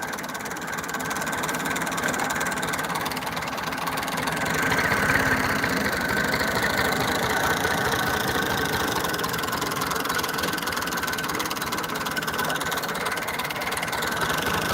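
A tractor engine idling in a Punjab village, a steady mid-pitched knocking chug running continuously at close range with no talk over it.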